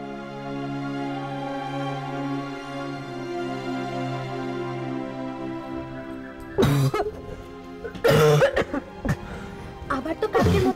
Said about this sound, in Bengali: আবার তো কাকের মতো কাশি হচ্ছে